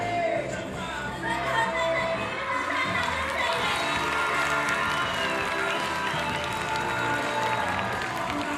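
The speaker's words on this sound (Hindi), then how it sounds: "जोरदार तालियां बजाइए" Audience at a primary school annual gathering applauds loudly and continuously, with cheering and children shouting mixed into sustained clapping throughout.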